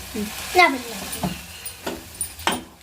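Maggi noodles frying and being stirred in a pan in a home kitchen, with soft sizzling and a few scraping stirs as voices talk nearby.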